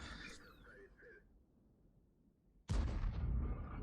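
In the video game World of Tanks, a single loud, booming tank cannon blast firing a high-explosive shell erupts after a quieter stretch, its rumble sustained to the end; a voice talks faintly beforehand.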